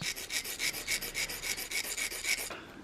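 Steady rhythmic filing strokes scrape an engine part of a Mira turbo engine being built, about a dozen even back-and-forth rasps, close and clear with no voices, ending abruptly.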